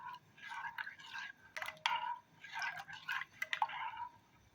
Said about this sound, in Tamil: இளநீ சேர்த்துக்கிறேங்க.